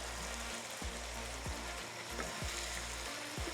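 Ginger-garlic paste sizzles steadily in a hot pan for chicken shahi korma, a constant close frying hiss broken by a few soft low knocks, with no voices.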